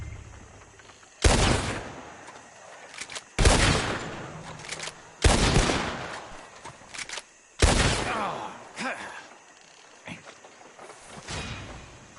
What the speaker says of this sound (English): As soon as you see them, start shooting.